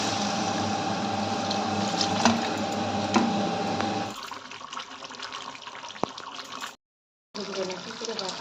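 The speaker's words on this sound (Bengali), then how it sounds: "এবার আমি পরিমাণ মতো জল দিয়ে দেবো।" Water is poured into a pan of potato and fish-head curry, a running, splashing stream that weakens midway, then briefly cuts out before resuming.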